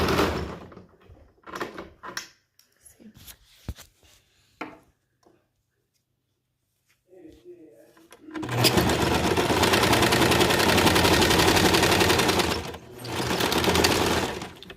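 A sewing machine stitching a fabric mask cover runs in a steady, loud burst of rapid stitching, pauses briefly, then runs again; a few handling clicks and soft knocks come before it.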